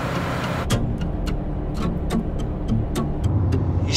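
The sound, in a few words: bus driving on the road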